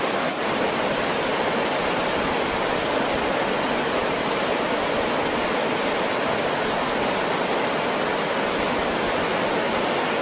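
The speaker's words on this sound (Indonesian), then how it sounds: "Airnya deras sekali" Strongly flowing river water rushes in a loud, dense, unbroken roar that stays steady throughout, close by with no voices over it.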